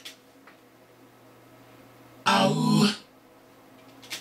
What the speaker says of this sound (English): I've EQ'd them and put a little reverb on it. And they sound something like this.